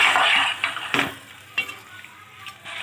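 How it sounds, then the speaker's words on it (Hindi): Chicken is fried in masala in a pan for an arbi chicken salan, with a steady close sizzle broken by several scraping stirs of a spoon against the pan. "अब चिकन डाल के भी इसे हम अच्छे से कम 10 मिनट तक अच्छे से भूनेंगे।"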